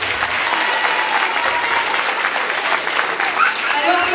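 Sustained crowd clapping from an audience after a Christmas story performance, a dense even wash of applause throughout with a voice heard over it.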